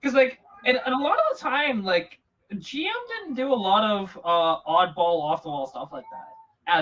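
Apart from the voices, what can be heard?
No distinct noise like a dog, phone or traffic.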